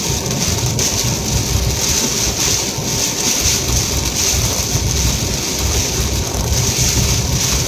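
A steady, strong wind blows during a June thunderstorm with a shelf cloud, forming a loud, constant roar mixed with heavy rain and no letup.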